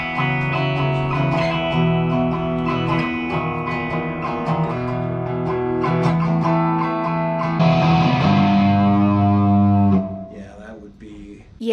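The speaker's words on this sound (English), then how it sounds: "distortion always does it for you" An electric guitar plays through a distortion effect, thick sustained chords with a gritty, saturated tone that ring loudly and continuously, shifting once near the end before cutting off.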